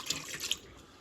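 Homemade pickle water is poured in a kitchen, giving a short splashing, trickling burst that fades out within about a second.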